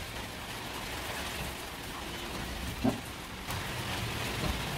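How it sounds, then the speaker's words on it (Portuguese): Steady rain falls outdoors as a soft, even hiss with one or two faint patters standing out, and nobody is talking. "Começou a chuva."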